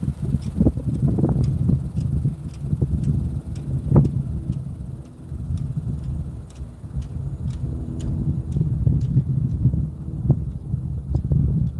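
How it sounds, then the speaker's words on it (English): Gusty wind buffets the microphone, a low rumbling roar with irregular thumps running throughout. "It's a little windy, and I apologize for the wind."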